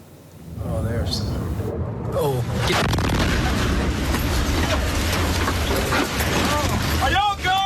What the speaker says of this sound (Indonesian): ledakan keras rudal balistik Iran sangat dekat dengan tentara Amerika